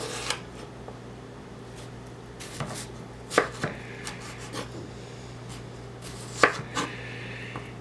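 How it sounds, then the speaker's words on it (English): Knife slicing cut vegetables into smaller pieces on a cutting board, a series of distinct close chops and scraping cuts at an irregular pace over a faint background hum. "we will make a few more slices across the slices we just made"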